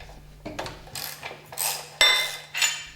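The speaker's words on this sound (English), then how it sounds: "Unscrew the screws" Screws are unscrewed on a Flygt submersible sewage pump, heard as close, loud ratcheting metallic clicks and grinding turns in several short bursts over a low steady hum.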